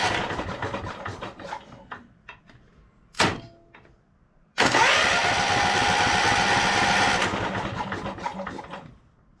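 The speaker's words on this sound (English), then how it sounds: "we'll just go ahead and spin the engine over a few times" An electric starter cranks a cheap, battered Kawasaki V-twin engine in one steady, loud burst of about three seconds, preceded by a brief sharp click and some quieter handling noise.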